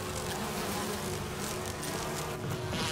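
Bees buzz steadily around a beehive in the Resident Evil video game, a dense, continuous insect drone that stays loud and even throughout, with no talking.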